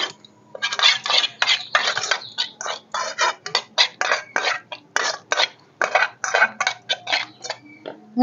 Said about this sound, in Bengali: এবার ভালো করে সব মিশিয়ে নেব।